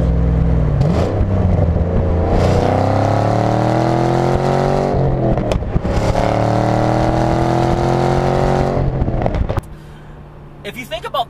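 A Chevrolet Camaro Z28 V8 engine accelerating, a loud rising roar through several climbing gear pulls with brief dips between shifts, settling to a lower rumble at the end.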